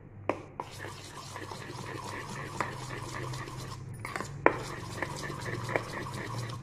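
Ice cream mixture made from three ingredients being stirred by hand in a bowl, with soft, steady scraping and several light clinks of a utensil against the dish, close and alone.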